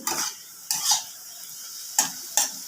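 Onions fried until reddish-brown are stirred in a pan, with four sharp scraping strokes of the spoon over a faint sizzle and quiet gaps between them, without any talk.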